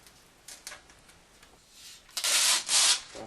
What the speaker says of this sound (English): I'm just going to take this tape off here